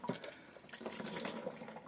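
Liquid solution being poured into a sprayer tank for treating strawberries, heard as a continuous close splashing pour with no talk over it.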